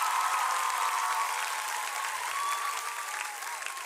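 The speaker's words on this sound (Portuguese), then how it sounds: "Dá uma salva de palmas" Church audience applause during a Portuguese sermon, a steady wash of clapping from a crowd with faint tonal hum beneath, heard without speech.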